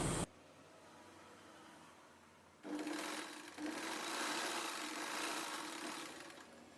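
A domestic sewing machine stitches a long frock, starting after a quiet pause with a steady close mechanical whirr and rapid needle patter that runs continuously, with a brief dip before resuming.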